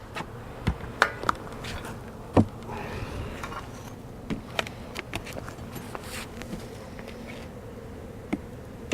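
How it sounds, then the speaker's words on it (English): Bees buzz near an opened beehive during a swarm check, a low continuous drone in the background punctuated by sharp knocks and taps from the hive equipment. "There's a bee right there."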